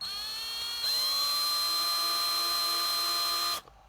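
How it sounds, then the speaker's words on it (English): A power drill whines steadily as it bores a 3mm hole into the plastic body of an HPI Maverick Blackout MT RC car, the high-pitched motor tone holding for about three seconds before cutting off abruptly. "Now it's time to drill our 3mm hole."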